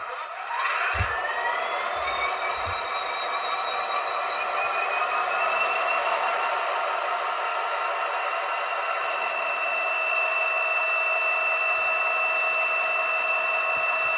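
A model SD40T-2 locomotive's sound decoder fires up its prime mover: a starting crank and chug that settles into a steady, loud diesel idle with rising whine, running alone for the whole stretch.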